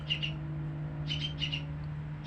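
An oriental magpie-robin (kacer) kept as a caged bird gives short, high double chirps in three quick clusters, close by over a low steady hum.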